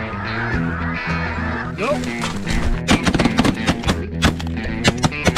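A flock of snow geese honks loudly and close during a goose hunt, a dense overlapping chorus of calls that grows busier, with sharp bursts of honking in the second half.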